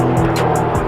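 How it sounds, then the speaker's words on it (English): A low-flying aircraft passes outside, a loud, steady engine roar filling the whole second with a broad, continuous rumble and no break. "Low flying aircraft."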